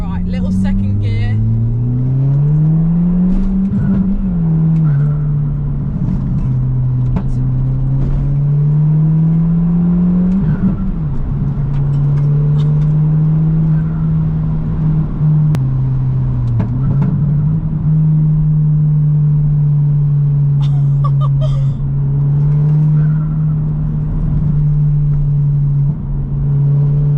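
A stage 1 remapped Audi TT pulls hard in second gear, its engine droning loudly and continuously as the pitch climbs and levels, heard from inside the car.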